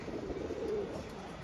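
A pigeon gives a soft, low coo close by, a single brief murmuring call over a steady faint background hiss.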